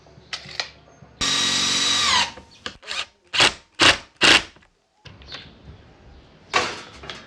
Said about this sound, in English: And now we'll put in our retaining screws.